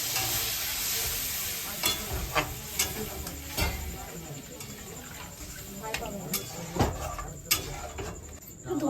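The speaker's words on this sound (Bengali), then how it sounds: "তো এদিকে আমার আলুটা প্রায় ভাজা ভাজা হয়ে গেছে" Potatoes frying in a pan, a steady sizzle with the scrape and tap of stirring spoon strokes recurring every second or so, close and moderately loud.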